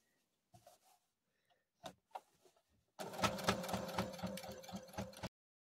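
Sewing machine stitching a Still Water quilting pattern, a short close run of rapid rhythmic needle clatter after a few faint clicks and handling sounds.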